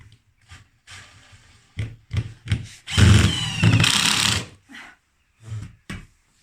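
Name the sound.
screwdriver driving a screw into a shelf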